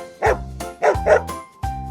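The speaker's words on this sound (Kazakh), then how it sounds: "Ит. Ау дейді" A cartoon dog barks four times in short, bright, tonal yips, two close together in the middle, clear and loud with brief pauses between.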